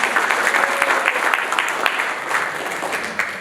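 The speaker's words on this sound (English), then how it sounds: "A big round of applause for him once again." An audience at a college national seminar applauds the chief guest, a dense round of clapping that carries steadily for about three seconds and tapers a little at the close, with no talking over it.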